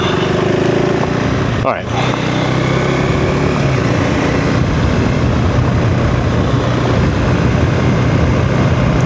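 A 2025 KTM 390 Enduro R single-cylinder motorcycle idles and runs off-road with a steady, loud engine drone, with a brief dip as the throttle closes, while a rider talks briefly over it.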